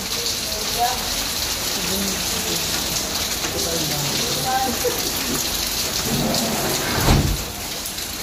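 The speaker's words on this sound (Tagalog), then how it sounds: "Lakas ng ulan." Heavy rain pours down steadily, a dense hiss of drops on surfaces, with a low rumble of thunder building near the end.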